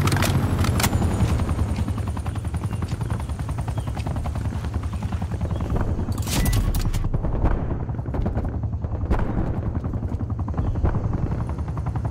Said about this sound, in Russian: нужна поддержка ударного вертолета. Ударный вертолет на месте.